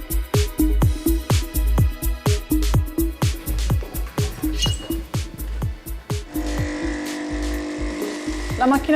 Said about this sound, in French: Cette machine à café, comme les autres appareils ménagers de la maison, consomme de l'énergie électrique.